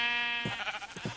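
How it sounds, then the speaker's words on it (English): A sheep in a video game bleats twice in quick succession, close and clear with nothing else around it. "This sheep's freaking out."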